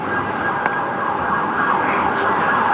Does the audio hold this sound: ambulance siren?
yes